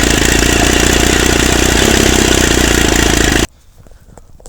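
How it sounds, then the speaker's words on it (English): The diesel engine of a 1950s Caterpillar D4 cranks and chugs loudly with a rough, rhythmic clatter for a few seconds, then abruptly cuts out to near silence. "We're still trying to get this diesel engine to fire off."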